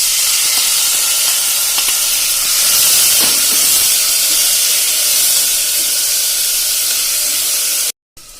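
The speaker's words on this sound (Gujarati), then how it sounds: "હવે એમાં આપણે કાંદા જે ઝીણા ઝીણા સમાર્યા છે સૂકા એ નાખી દેશું" Finely chopped dry onions hit hot oil in a pan for green pigeon pea totha, giving a loud, steady broadband sizzle that holds for about eight seconds before cutting off abruptly.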